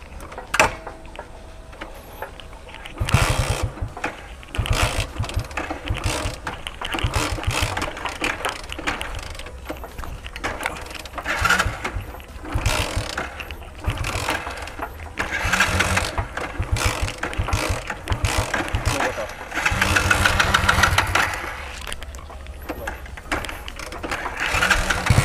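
A motorcycle running on hand sanitizer as fuel is kick-started, its engine sputtering into life and settling into a loud, rapid, uneven idle close by, with repeated revving surges and moments where it nearly falters.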